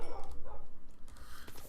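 Dogs in the video game Crash Landing give a quick series of short, rhythmic yips and barks, fairly close and moderately loud, with a few softer whimpering sounds toward the end.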